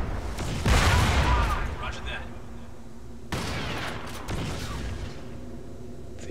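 Gunfire in the shooter game Crysis Warhead: a loud burst of rapid shots and booms at the start, then quieter scattered fire and a second heavy blast, with a voice talking over it.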